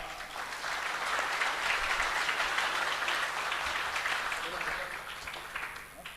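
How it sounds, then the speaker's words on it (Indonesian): A large audience at an Islamic gathering at Tebuireng applauds, a broad, steady wash of clapping heard at a distance, swelling and then thinning, with faint voices beneath. "Tepuk tangan yang meriah sekali lagi buat Pak Erick Thohir dan buat Gus Miftah"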